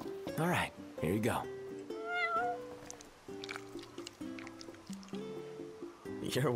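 Cat meowing in Final Fantasy XV, a few close, high meows spread across the clip amid background game music, with no voices.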